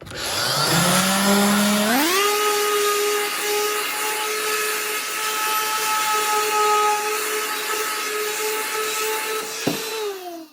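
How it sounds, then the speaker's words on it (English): Power sander working on a car center console for an Acura TSX, a loud steady whine that spins up over the first two seconds, holds evenly, then cuts off near the end. "You're just gonna take your sander and go around until you see the wood."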